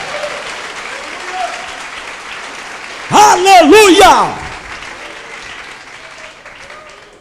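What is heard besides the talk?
church congregation applauding God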